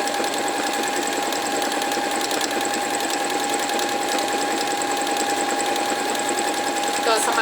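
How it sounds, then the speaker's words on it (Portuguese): Singer sewing machine stitching through four layers of fabric, a loud, continuous rapid mechanical whir with a steady hum from start to finish. "aqui eu tô costurando 4 camadas de tecido e ela costura super bem"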